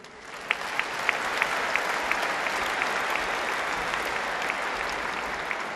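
Audience applause filling a hall at a memorial gathering, steady dense clapping throughout with a few sharper individual claps standing out, fairly loud and continuous with no talk.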